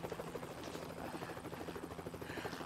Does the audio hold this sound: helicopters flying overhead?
yes